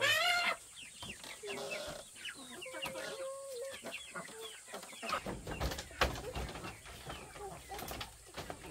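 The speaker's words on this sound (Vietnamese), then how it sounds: "Con gà đói lắm rồi." Hungry farm chickens cluck and squawk nearby in a steady, busy chorus, with a few higher calls and some background noise over a rural setting.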